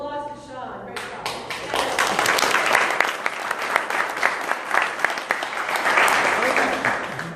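A live audience breaks into applause after a talk, starting just after a voice and swelling into a full, steady burst of clapping with sharp individual claps standing out, loud and close.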